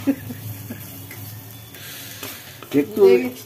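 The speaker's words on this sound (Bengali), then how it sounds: "কতটা নেড়েছো? নাড়ো" A spoon stirs coconut naru mixture in a hot pan, making a steady close scraping and faint sizzle, with people talking over it toward the end.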